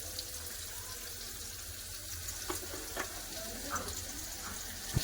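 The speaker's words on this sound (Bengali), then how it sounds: "মাংস তরকারি রান্না করে তার জন্য দিয়ে দিচ্ছি সরষের তেল" Mustard oil sizzling in a hot pan before a meat curry, a quiet steady frying hiss with occasional soft pops and clinks close by.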